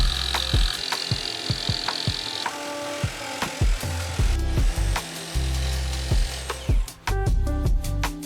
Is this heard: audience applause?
no